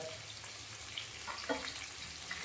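Onion, ginger-garlic paste and plenty of curry leaves frying for Konkani chicken vade, a faint, steady low sizzle with a few soft clicks, close but quiet.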